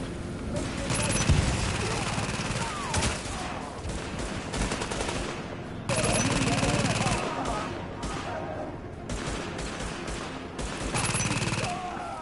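Gunfire in a PS4 shooter video game, repeated bursts of rapid shots and fusillades filling the whole clip, loud and continuous with brief lulls, a voice talking faintly underneath.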